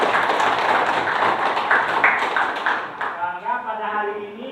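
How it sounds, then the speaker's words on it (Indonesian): A classroom of students claps together in a brief burst at a school lesson on vegetable gardening, fairly close, with a teacher's voice speaking over and after the clapping. "Iya, tepuk tangan."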